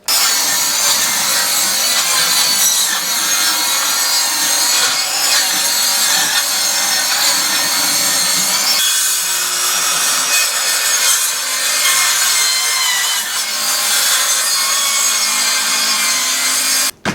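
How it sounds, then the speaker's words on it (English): A circular saw cuts an old wooden floor, more than three-quarters of an inch thick, into segments during a kitchen renovation, giving a loud, continuous, close grinding whine that runs almost without a break and stops abruptly at the end. "So we're going to cut it into segments with a skill saw."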